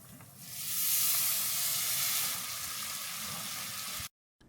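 Ground beef, a 73/27 blend for tacos, sizzles loudly in a hot pan, a steady dense crackle and hiss that holds for about four seconds, then stops abruptly.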